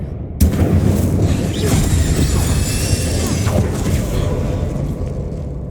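Fiery spell blasts from Confringo and Incendio in the Hogwarts Legacy video game, heard as a sudden loud boom followed by a sustained roaring, crackling rumble that lingers for several seconds.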